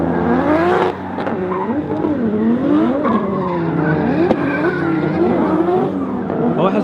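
2JZ-swapped Nissan 370Z revving hard outdoors, the engine note climbing and dropping in repeated loud sweeps close by, with tire squeal mixed in.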